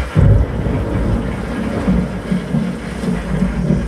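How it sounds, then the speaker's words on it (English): A museum exhibit effect of a storm of hail and fire: a deep, rumbling roar like rolling thunder, loud and continuous, with heavy low booms swelling and fading throughout and no voices. "Hail of ice and fire."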